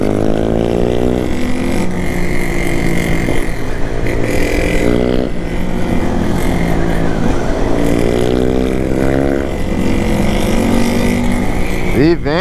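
A 2020 Honda XRE300 motorcycle ridden at night in the countryside around Indaiatuba, its engine droning loud and close for the whole stretch, with revs repeatedly climbing and easing.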